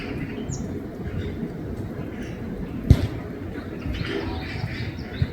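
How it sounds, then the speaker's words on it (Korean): Birds call and coo along a quiet forest path through a pear-tree woodland in Seoul, soft scattered chirps with a possible dove coo and a brief wing flutter, moderately distant over faint background hum. "새들이 어찌나 많은지 오솔길에서 흔하게 만나네요."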